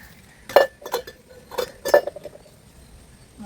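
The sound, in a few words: dishes and utensils clinking while being washed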